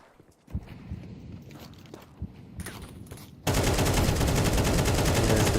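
Sustained automatic AK rifle fire in a competitive Counter-Strike match, scattered shots and footsteps at first, then a dense, loud continuous spray of gunfire to the end.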